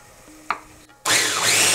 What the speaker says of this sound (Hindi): इसको लेके हम इसका एक पेस्ट बना लेते हैं मिक्सी में और पीस लेते